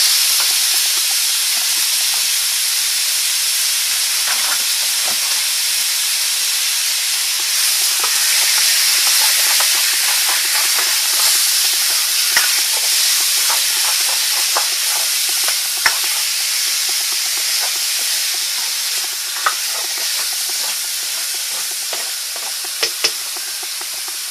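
Two pounds of chopped chicken thighs fry in a pot for risotto, giving a loud, continuous hiss and sizzle with scattered clicks of stirring, and no talking.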